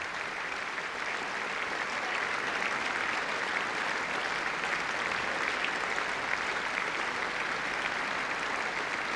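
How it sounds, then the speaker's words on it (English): A conference audience applauds a speech, a sustained wash of clapping from many hands at an even, moderate level for the whole stretch, with no distinct voices. "And applauded by his boss."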